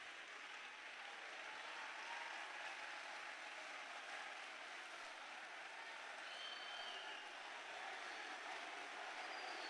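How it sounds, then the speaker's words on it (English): Audience applause at a National Science and Maths Quiz with school contestants, a steady, distant wash of crowd clapping that holds at an even level throughout. "with a big round of applause, welcome our contestants to come and be seated"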